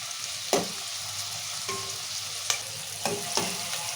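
Onion and tomato fry in a pan for a masala brinjal curry, a steady low sizzle under a few sharp clatters of a spoon stirring against the pan, close up and with no voices.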